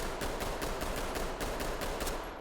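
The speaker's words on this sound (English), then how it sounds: "if I were to shoot a target hip firing" Rapid pistol shots hip-fired at a target in the tactical shooter Ready or Not, about nine loud, evenly spaced cracks over a constant dense background.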